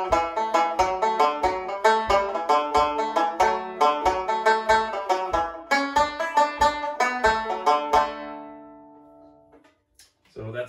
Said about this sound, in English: It's a smaller four-string banjo,